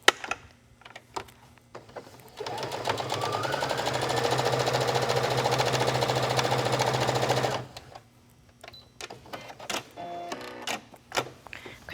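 Sewing machine edge-stitching trim along a wrap dress bodice, a steady close whirring run of about five seconds framed by fabric handling and small clicks before and after.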